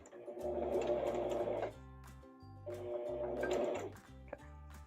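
A sewing machine runs in two rapid, rhythmic stitching bursts with a short pause between, close and steady, with no talking over it.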